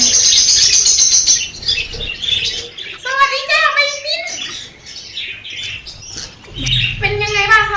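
Parrots in a walk-in flight aviary chatter, squawk and whistle busily while being fed fresh corn. The bird calls are close and layered, with a few wing flaps, and someone talks over them at times.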